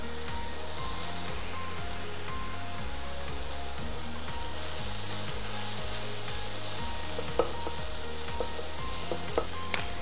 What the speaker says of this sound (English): So you're cooking the spinach until it's slightly wilted